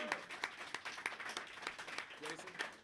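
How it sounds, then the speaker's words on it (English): A comedy show audience claps for the comedians at a holiday Christmas comedy event. The clapping is sparse and uneven, with distinct individual claps, and voices can be heard talking among them. "All of the comedians deserve a giant round of applause tonight."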